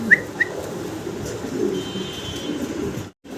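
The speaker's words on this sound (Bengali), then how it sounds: "রানিং কবুতর দেখতে পারতেছেন, লাল টকটকা এক জোড়া জার্মান বিউটি হুমা।" A pair of red German Beauty Homer pigeons gives two brief calls near the start, then steady background noise continues.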